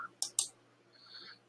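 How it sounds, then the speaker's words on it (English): Two quick, crisp computer mouse clicks sound close by in a quiet room, one right after the other, followed by faint low noise. "And if I just right click"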